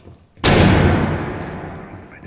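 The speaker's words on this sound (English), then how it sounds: "Tossing a stun grenade." Stun grenade detonating in a competitive Rainbow Six-style esports match, a single loud, sharp bang that decays into a long fading boom, heard alone after a quiet moment.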